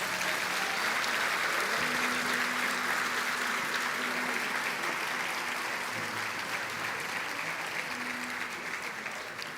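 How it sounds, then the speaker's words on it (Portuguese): A church congregation claps steadily and loudly for several seconds, a dense wash of applause that fades slightly toward the end. "mais um forte aplauso ao Senhor Jesus"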